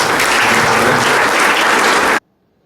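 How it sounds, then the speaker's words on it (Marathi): Loud, sustained applause from an audience at a spiritual satsang gathering in Mohol, many hands clapping densely and evenly for about two seconds before cutting off abruptly into silence. "त्यांच्या देखील आपण जोरदार टाळ्या वाजवू"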